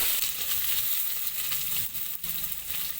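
Small shallots sizzle steadily in hot oil with cinnamon, cloves and fennel seeds, a dense close crackle that runs unbroken, with a faint stirring scrape partway through.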